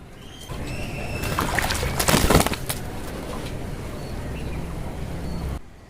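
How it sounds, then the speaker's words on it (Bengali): Pigeons bathing splash and flutter in water, a flurry of wet wingbeats that swells to a loud burst midway before settling into softer splashing. "সবগুলো কবুতর কিন্তু অনেক মজা করে স্নান করছে দেখেন"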